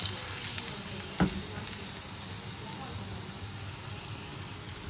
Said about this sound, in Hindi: ये हमारा ऑयल थोड़ा गर्म हो गया है, इसलिए मुझे हिलाना पड़ रहा है ताकि हमारा मसाला जल ना जाए।